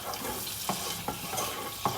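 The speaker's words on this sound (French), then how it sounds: "Mon beurre est en train de fondre." Butter melting in a pan as something is stirred, a steady sizzling hiss broken by a few soft scraping strokes, close and moderately loud, with no talking.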